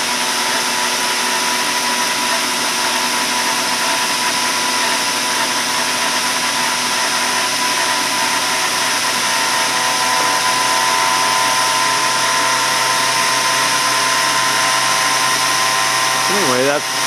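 Tesla-style bladeless steam turbine driven from a boiler at about 30 PSI, spinning steadily: a continuous loud whine with a bright high hiss, unchanging throughout, close by.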